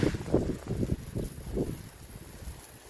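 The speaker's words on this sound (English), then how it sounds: "it's a windy day on the coast." Steady coastal wind buffets and rumbles across the microphone in a garden in low gusty bursts, with a broad hiss running underneath throughout.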